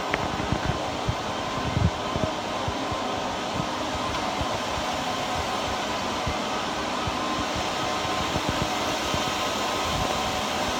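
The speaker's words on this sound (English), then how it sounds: "Here we are, server room, commercial building, final day." Server room fans in a commercial building give off a steady, broadband whooshing hum that fills the space, with occasional faint clicks and knocks underneath.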